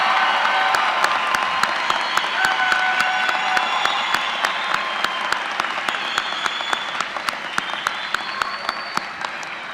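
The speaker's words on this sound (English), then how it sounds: "please show your appreciation for the August 2019 baccalaureate graduates" Audience at a 2019 summer university commencement applauds and cheers for the August baccalaureate graduates; dense, steady crowd clapping fills the whole stretch with sharp individual claps standing out and cheering mixed in.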